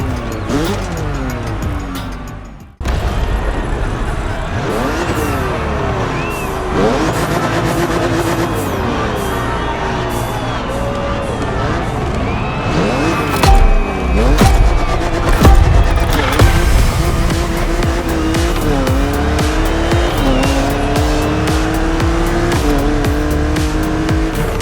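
A BMW Z4 driving on the roads of Maui in the video game The Crew Motorfest, its loud continuous engine rising and falling through gear shifts with occasional tire squeal after a brief break near the start.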